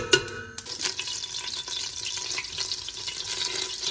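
Olive oil and butter heat in a slow cooker set to high, giving a soft continuous sizzle with light crackling, close and fairly quiet, after a few clinks at the start.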